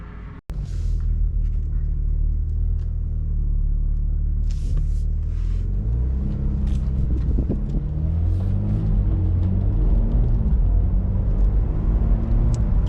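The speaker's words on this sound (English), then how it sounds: "this test drive of this 2025 BMW M4 Competition" A 2025 BMW M4 Competition xDrive driving, a steady low engine rumble and road noise from inside the cabin that builds gradually, with a sharp click at the start and no talking.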